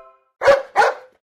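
A dog gives two quick, sharp barks close by, then falls silent.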